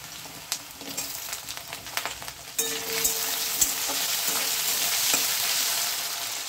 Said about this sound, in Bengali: এই তেলের মধ্যে আমি এই যে টুকরো করা আলুগুলো, এই আলুগুলো এতে দিয়ে একটু লাল করে ভেজে নেব